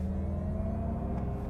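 Mercedes-Benz EQS SUV, a 2023 electric model, playing its Vivid Flux synthetic drive sound in comfort mode, a steady low humming drone with tonal layers, continuous and close inside the cabin.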